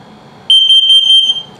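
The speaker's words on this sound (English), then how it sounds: "So I'm going to put through this self-test so you can hear it." A 2022 XLR Boost 25LRLE RV's LP and carbon monoxide detector sounding its self-test: one loud, shrill electronic alarm tone pulsing rapidly for under a second, close by.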